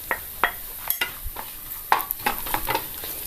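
Coconut pieces, nuts and raisins fry in a pan for rice payasam, a steady soft sizzle under intermittent clicks and scrapes of a spoon stirring against the metal.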